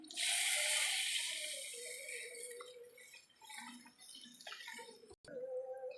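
Tamarind water mixed with chili powder and salt pouring into a pan, a loud splashing rush at first that tapers into gentle trickling and a few faint kitchen clinks.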